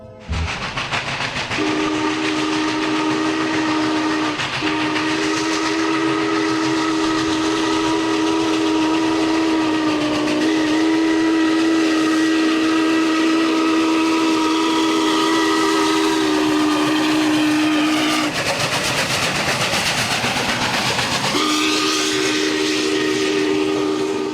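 Steam whistle of the UP 3985 Challenger steam locomotive sounds a long, loud, steady chord lasting most of the stretch with a few short breaks, over a constant background hiss of steam.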